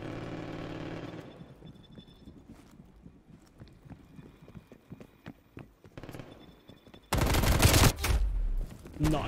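A scoped heavy gun in a video game firing in scattered sharp cracks and short bursts, close and punchy, ending in a loud dense stretch of rapid fire near the end.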